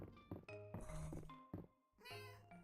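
Cartoonish cat meows from the Fields of Mistria farming game, several short tonal mews in a row over light game music and chimes, close and clear.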